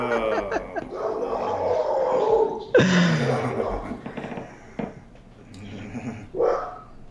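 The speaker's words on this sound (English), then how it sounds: "Do you hear my dog freaking out?" A pet dog barks and growls in agitated bursts at home, loud and near, mixed with other video audio and overlapping voices.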